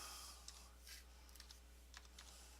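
Keys tapped on a computer keyboard while entering a diameter value in CNC drawing software: a few quiet, scattered clicks in short bursts, close and faint, over a steady low hum.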